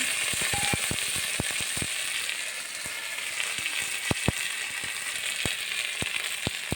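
Chili and onion fry in hot oil with ginger and cumin paste, giving a dense, steady sizzle close up, broken by sharp clicks and taps of a spoon stirring against the pan.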